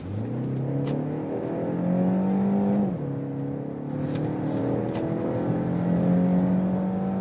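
A 2023 BMW X1 M Sport 23i petrol SUV accelerates hard from 45 km/h, its engine note rising steadily through the gears with a brief dip at a shift, a loud, continuous in-cabin drone heard alone without talk.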